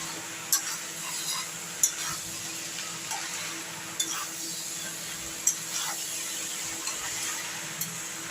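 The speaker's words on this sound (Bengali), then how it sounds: "এবার কিন্তু এই মশলাটাকে একটু মিশিয়ে নিই।" A spice mixture with chopped tomato is stirred in a pan, giving soft scraping with a few sharp clinks of a spoon against metal over a faint steady sizzle, close and fairly quiet.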